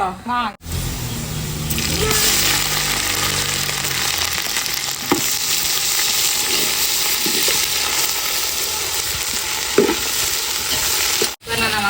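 Onions frying and being stirred in a pan for country chicken biryani, a loud steady sizzle with scraping stir strokes, broken by a brief pause near the start and end.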